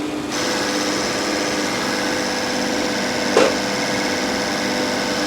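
Bosch RS203 diesel injection pump on a test bench at 1000 RPM, lever at full throttle, giving a steady, loud, high whirring mechanical drone with a fast rattling buzz and one brief knock partway through, no talk.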